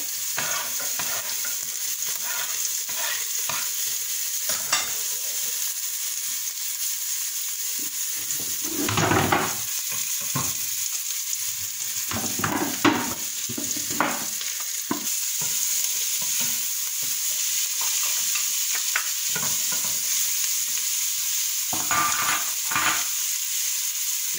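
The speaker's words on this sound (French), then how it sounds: "J'ajoute un peu d'huile. L'huile d'olive, hein, mais ça dépendra. J'ajoute les oignons. J'ajoute l'ail." Onions and garlic sizzle and fry in olive oil in a pan, a steady close crackle broken by louder bursts of stirring and scraping, with no talk.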